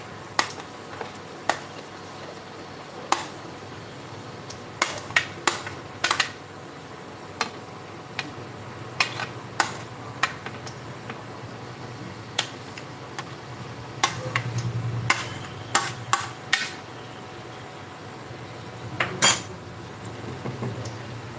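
Vegetables tipped into cooked-down masala in a pan and stirred for a vegetable handi, heard as sharp clinks and scrapes of a spoon against metal arriving in irregular bursts over a low, soft sizzle, with no voice present.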